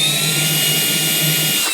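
VICSONIC handheld vacuum cleaner running close by, a loud steady high-pitched motor whine with a constant airflow rush and no talking.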